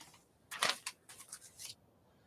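Scissors cut cocktail pictures out of a glossy magazine: a few crisp snips and paper rustles in quick bursts, close and fairly soft, with no talking.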